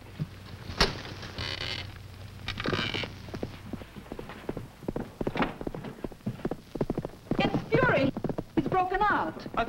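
Hooves clop irregularly on hard ground alongside creaking, with snorts and voices talking now and then.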